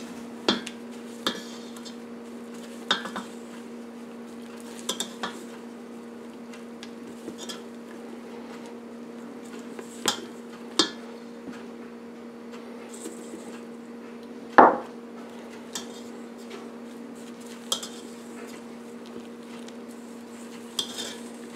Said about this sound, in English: Now it comes off the stand mixer to do some hand folding in with the rest of the ingredients.